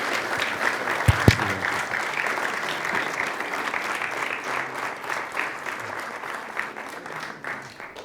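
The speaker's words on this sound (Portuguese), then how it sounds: "um grande aplauso para ele." An audience at the Palácio de Belém applauds photographer Alfredo Cunha, dense sustained clapping from a crowd that holds steady for several seconds, with a couple of sharp thumps near the start, then thins slightly toward the end.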